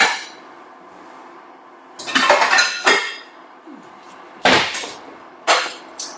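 Pans are handled in a home kitchen while a cook swaps one pan for a non-stick one: several sharp metallic clanks and clinks, close and loud, separated by quiet gaps.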